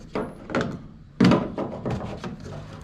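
A gas cap is fitted onto the fuel tank of a 1966 Ford Falcon, giving several close, dull knocks and thunks, with one louder clunk in the middle of the sequence.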